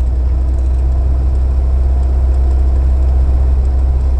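Steady low cabin drone and road rumble from an Austin Ambassador on a road test, its gearbox running quietly, a continuous hum with no talk.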